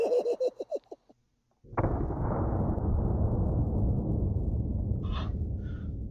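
A CO2-powered knife gunblade fires into ballistic gel with one sudden, forceful blast followed by a long, hissing rush of escaping gas, preceded by short breathy gasps and sniffs close by.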